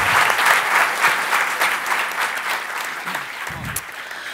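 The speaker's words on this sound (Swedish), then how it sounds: "Vi kan väl ge dem en applåd." Steady applause from a sizeable crowd at a party conference, thanking the panels, continuous clapping holding at an even level for several seconds before easing slightly.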